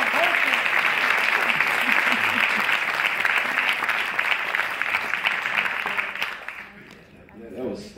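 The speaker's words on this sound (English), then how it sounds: "can we give another round of applause" Sustained audience applause at a Free Library author event, a dense steady patter of many hands that thins toward the end as a voice begins speaking.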